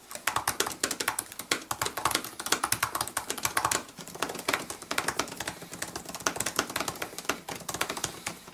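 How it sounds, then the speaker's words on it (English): Rapid, crisp clicking of Apple MacBook Pro 2018 keys in quick irregular bursts, close and fairly quiet, with a short pause midway before typing resumes. "this also changes the clicking tone of the keys"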